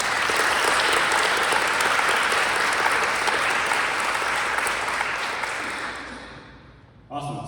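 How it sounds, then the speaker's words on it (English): An audience at a conference session claps steadily in a dense, sustained round of applause that slowly tapers off, with a brief voice surfacing at the very end. "just a round of applause for everybody"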